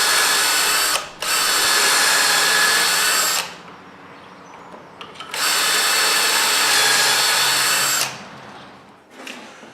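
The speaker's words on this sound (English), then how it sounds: "we're going to put 2 pocket holes on the end of each of these boards" A power drill boring pocket holes in boards for a raised garden bed, two long loud whirring runs of a few seconds each separated by a quieter pause, close and steady at full speed.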